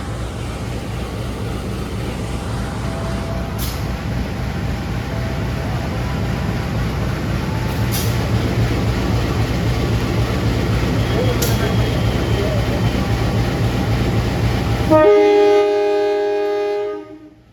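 A Prameks passenger train pulled by a locomotive departs Jenar station in Indonesia, giving a steady rolling rumble with faint high whines for about fifteen seconds before the sound cuts off.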